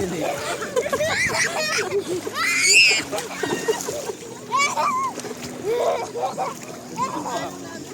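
People swimming and splashing in water at a summer outing, with irregular splashes close by under constant chatter and excited voices, including children.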